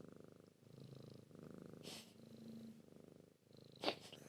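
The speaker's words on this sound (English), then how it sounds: "Here's some kitty ASMR for you." A cat purrs close to the microphone in a steady, continuous rumble, with a brief louder rustle or snort near the end.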